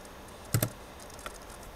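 A few quick keystrokes on a computer keyboard while CMD is typed: two close, crisp clicks followed by a fainter third tap, over a quiet room.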